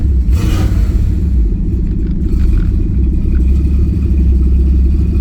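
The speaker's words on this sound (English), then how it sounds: "The car is running perfectly fine." A Pontiac Trans Am KITT replica's engine idles steadily with a deep, loud, close rumble, running smooth and even.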